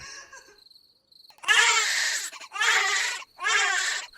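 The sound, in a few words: newborn baby crying, cartoon sound effect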